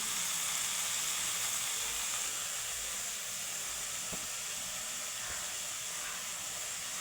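Vegetable bhaji (tandul kunjar) cooking in a pan on a gas stove gives a faint, steady steam hiss and gentle sizzle throughout, with no talking.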